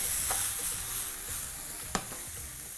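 Steady, dense sizzling of oyster mushrooms frying in a pan, with a few soft clicks and a sharp tap of a utensil partway through, no talking.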